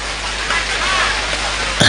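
Steady rain hisses in the background during a rainy-season sermon, with a voice talking over the downpour throughout.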